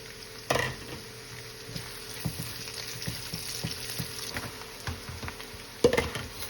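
Onions added to a pan with Calabrese sausage and salami fry with a steady moderate sizzle, broken by occasional knocks and scrapes of stirring and a louder clatter near the end.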